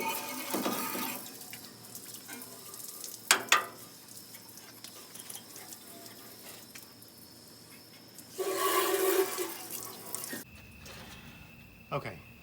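Water from a hose or sprayer rinses metal prep off steel body parts of a 1967 Camaro being rebuilt, running in bursts with a louder stretch of spray near the end, with talk in between.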